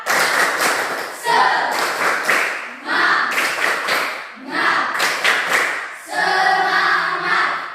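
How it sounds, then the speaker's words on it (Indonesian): A school class performs a rhythmic spirit clap, loud bursts of patterned clapping in several repeated phrases separated by brief pauses, with voices chanting along. "Tepuk semangat."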